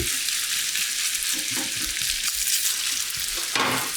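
Dry-aged beef mince fries in a hot pan for bolognese and is slowly broken up. A loud, steady, close sizzle runs throughout with a few soft stirring knocks.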